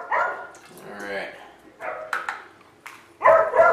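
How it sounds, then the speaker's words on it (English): Several dogs bark, yip and whimper nearby while people talk over them in a mixed, uneven burst that ends in a loud bark. "I got to stop here for a minute. The dogs are working."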